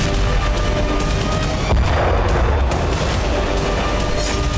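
Russian strikes on Kyiv in war news footage, a dense, loud wash of booming blasts and crackling fire filling the whole stretch with repeated sharp impacts.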